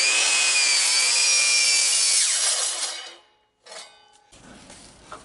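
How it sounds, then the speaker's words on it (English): Cutoff saw slicing through a piece of aluminum: a loud, steady high-pitched grinding whine for about three seconds, then winding down to silence, followed by faint clattering handling sounds. "I've got a piece of aluminum here. I'm just going to square it up with this cutoff saw."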